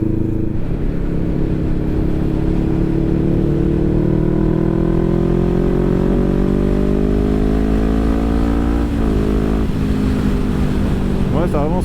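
A 2017 Honda CBR500R motorcycle being ridden, engine droning loud and close as it pulls steadily up through the revs, with a shift near the end and heavy wind noise throughout.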